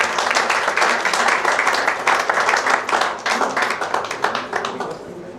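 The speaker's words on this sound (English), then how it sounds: "So I want us to give her a big round of applause." A room of guests at an intimate honors ceremony in Ghana clap together in a dense, lively round of applause that holds strong and then eases slightly near the end.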